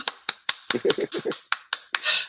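Sparse individual hand claps for Yanatha Desouvre at a French-language conversation event: about ten sharp, separate claps at uneven intervals, close and distinct rather than a full crowd ovation.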